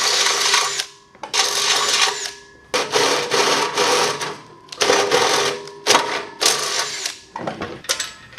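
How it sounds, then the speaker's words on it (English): A drill bores a hole in a vehicle dash to mount a new switch, whirring in several close bursts of a second or two, stopping and restarting with short pauses between. "Just got to drill a hole and get it mounted."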